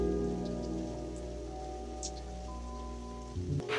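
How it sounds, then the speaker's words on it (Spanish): Rain falls in a steady, even patter over an urban setting, constant and moderately close, layered with a low drone and faint sustained musical tones. "si te quedas quieto bajo la lluvia, en un segundo caerían sobre ti 34 gotas"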